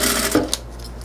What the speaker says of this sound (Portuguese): Agora eu vou passar uma costurinha de segurança